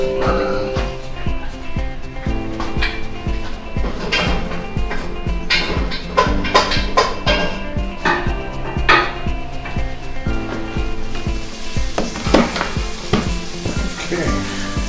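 Shallot and garlic fry in a pan with a loud, continuous sizzle, broken by sharp clacks and scrapes of stirring.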